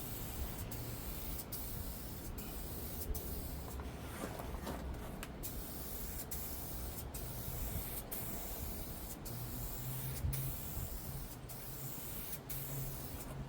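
Spray paint hisses steadily over primer on a 1976 Ford F150, a thin continuous spray broken by short bursts and brief pauses, close by with no voices.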